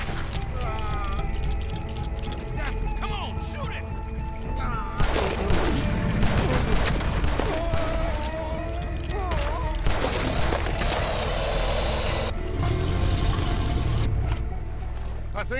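Gunfire in the video game Red Dead Redemption 2, heard as scattered sharp shots and bursts over loud rumbling engine-like noise and game sounds, with character voices talking throughout.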